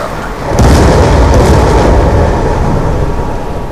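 Lightning Strike killstreak explosions in Call of Duty Black Ops 2, a loud sustained rumbling boom that swells in and holds as a heavy roar for several seconds.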